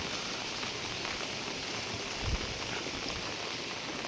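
Heavy rain pours steadily over a village, a dense, even hiss with no break, close and continuous, with one brief low thud partway through.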